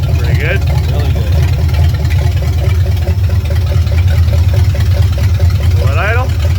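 A 1965 Ford Mustang Fastback engine, running for the first time in 44 years, idles with a steady, deep, even rumble close by while people talk over it.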